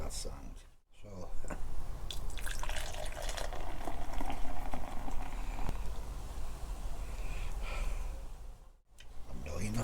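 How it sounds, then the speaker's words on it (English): Cider is poured out in a garden during an overnight tent test, a gurgling, bubbling fill lasting several seconds, with people talking and sighing over it. "I just love hearing the sound of it being poured out"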